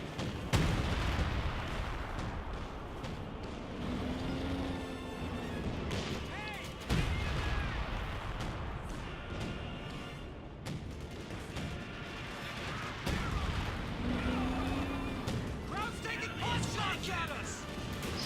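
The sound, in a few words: Priest artillery shelling, from video game Company of Heroes 2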